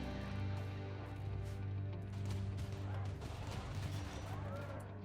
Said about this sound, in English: that tunneler is just pounding shots from our defense then